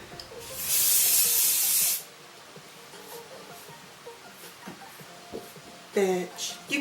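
Hairspray from an aerosol can sprays onto curly scene-style hair in a single sustained, loud hiss of about a second and a half, followed by quieter shuffling and brief voice sounds.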